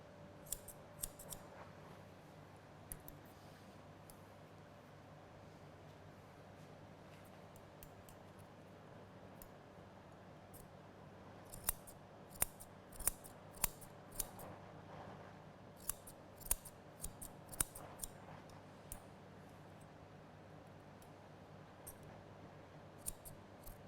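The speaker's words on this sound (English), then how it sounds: "Then I'm going to turn my scissors around and just take that edge off." Grooming scissors snipping a poodle's coat during a home grooming session, with sparse faint clicks early on and then clusters of sharp, quick snips in the second half over a quiet, humming room.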